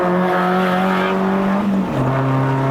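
A Perodua Bezza 1.3L Premium X with a five-speed manual accelerates uphill on a mountain road, its exhaust droning loud and steady, the note dipping at a gear change before pulling again, heard from inside the car.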